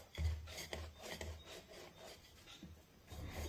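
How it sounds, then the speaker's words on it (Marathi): Rolling pin rolled back and forth over poppy seeds on wheat flour dough, making soft, rhythmic rubbing and rasping strokes at close range, quiet and repeated without speech. "आता पुन्हा यावर लाटणं फिरून ही खसखस पिठावर व्यवस्थित सेट करून घेऊया"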